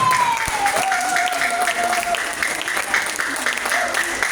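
A seminar audience breaks into steady applause, a dense wash of many hands clapping close by, with a speaker's voice running over it.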